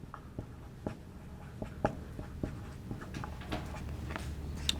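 Marker strokes on a board during a biology lecture, a series of short scratchy squeaks and taps at an irregular rhythm, close and fairly quiet against a low room hum.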